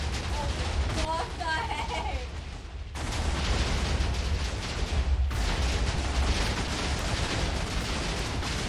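Explosions go off across the map in Minecraft, making a dense, continuous rumbling roar that swells louder partway through, while a person speaks briefly over it early on.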